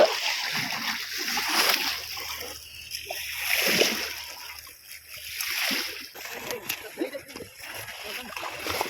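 Someone beats the water of a Sundarbans wetland pond in repeated, close splashing bursts to drive fish toward a net being dragged in, with a voice speaking between splashes.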